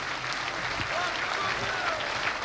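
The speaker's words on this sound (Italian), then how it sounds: "a cui farei un applauso grande" An audience applauds steadily at the AS Gubbio football club presentation, a dense wash of clapping across the hall, with voices under it.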